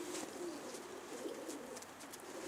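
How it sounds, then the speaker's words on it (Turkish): A small caught bird, likely a pigeon or dove, gives soft low cooing calls, faint and close, over a quiet background. "Mini minnacık bir kuş yakaladık"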